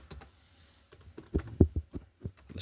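Quiet, sparse computer keyboard typing: a few soft clicks, then a quicker run of louder keystrokes with irregular rhythm, close by, with no speech.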